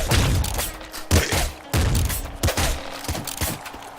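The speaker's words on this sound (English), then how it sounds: "Aw man, another triple machine gun" A triple machine gun in the game Nuclear Throne, firing loud, rapid bursts of overlapping shots in quick succession with brief gaps between volleys.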